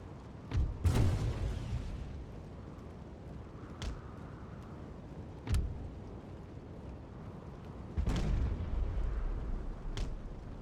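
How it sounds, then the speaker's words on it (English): Cannon in the Total War game NTW3 fires canister shot into enemy lines: several heavy booms, some sharp and close and others duller, spaced irregularly over a low battlefield rumble, with no voices. "just firing a little bit of canister into the lines"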